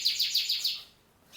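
Quick bright chirps from a female canary repeat in a rapid series of about five, fairly close, then pause before another begins; no voices.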